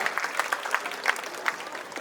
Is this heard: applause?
yes